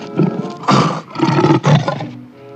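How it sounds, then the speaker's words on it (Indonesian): A lion roars in a short series of loud, rough bursts close to the listener, with brief gaps between them and no speech. "wah, ada singa teman-teman."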